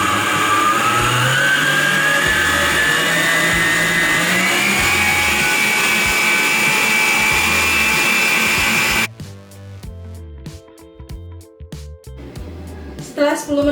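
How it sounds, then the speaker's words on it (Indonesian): A dough mixer runs at full speed, a loud, steady motor whine with rising pitch for about nine seconds, then cuts out, leaving quieter clatter and voices. "Lanjut mixer 10 menit dengan kecepatan yang full"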